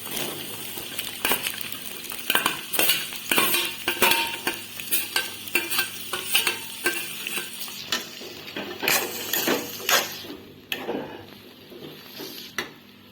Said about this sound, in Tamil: ஒரு நிமிஷம் நல்லா வதக்கிட்டு கோவக்காய் போட்டுக்கலாம்